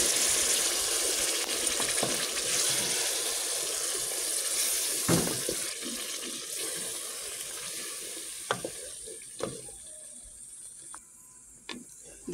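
Chopped tomato going into a hot pan with spices, cardamom pods and cloves for vegetable rice with chicken breast: a loud, steady close-up sizzle and hiss that slowly settles, broken by a few clicks and scrapes of stirring.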